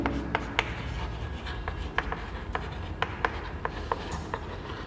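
Chalk or marker strokes on a classroom board during a physics lecture, a series of short, sharp taps and scrapes spread irregularly across the span, moderately close over a steady room hum.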